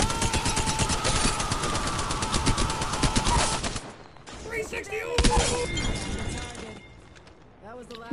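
Rapid bursts of automatic gunfire from a video game shootout, dense and loud for the first four seconds, then scattered single shots and game effects while a voice talks over the action.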